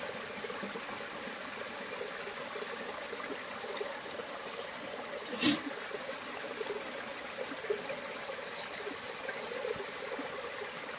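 Water is collected from a village spring stream in Lanja, Ratnagiri. The stream gurgles steadily throughout, and a single sharp splash or knock from a vessel stands out midway.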